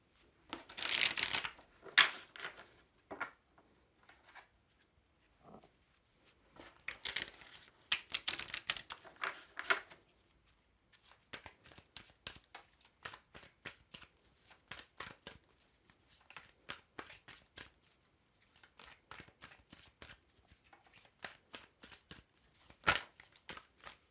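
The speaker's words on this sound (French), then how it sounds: "Je vais tout de suite tirer les cartes au niveau sentimental." Tarot cards being shuffled and drawn, with bursts of riffling followed by a long run of quick, soft, close-up card flicks and taps, loud in spots and otherwise quiet, with no talking.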